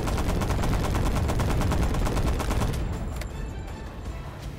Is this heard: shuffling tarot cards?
no